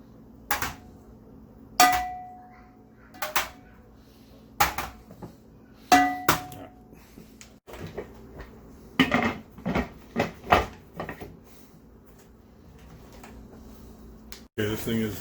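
Six glass pint jars of escarole and beans clink and knock as they are set one by one into a pressure canner, a series of sharp glassy impacts and scrapes at close range, with a steady background hum.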